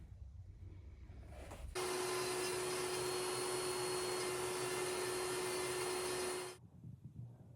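A vacuum cleaner runs steadily in a woodcarving workshop, starting abruptly, holding a loud even whine with a constant tone for about five seconds, then cutting off.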